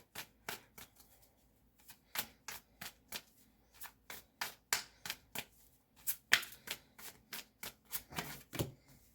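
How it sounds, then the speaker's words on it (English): Tarot cards are shuffled by hand in quick bursts of crisp riffling flicks, about twenty short close pulses in an irregular rhythm with no talking. "shuffle them back into the deck however I pick them up"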